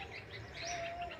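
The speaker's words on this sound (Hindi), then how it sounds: "तो कुछ पक्षियों की आवाज़ें सुनाने का प्रयास करते हैं।" Forest birds in Bhopal chirp and call in quick overlapping phrases, with a soft cooing undertone and a steady ambient hum, moderately loud, with no voices.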